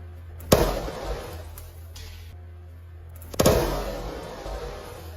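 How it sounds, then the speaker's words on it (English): Car window glass shattering, struck by spark plug pieces: two sharp, loud cracks a few seconds apart, each followed by a brief crumbling tinkle, over a low steady hum. "Just few pieces of the spark plug can crack that glass"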